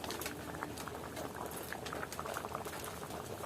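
Water bubbles at a steady rolling boil in a pot for bamboo shoot curry, a dense close crackle and patter of bursting bubbles with no talking, heard faintly at modest level.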